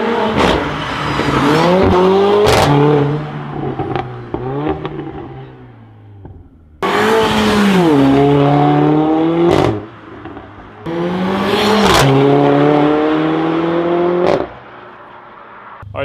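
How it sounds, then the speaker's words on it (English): Mercedes CLA45 AMG (C117) fitted with an iPE exhaust system driven hard on hill roads, loud engine revving up through repeated rising sweeps with sharp gearshift cracks between pulls, three long bursts separated by brief quieter lifts. "We're going up to the hills in order to give you a proper sound test of this car"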